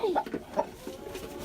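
Hens clucking around a backyard chicken coop in the morning, with a low, busy mix of short clucks and murmurs, moderately faint and steady.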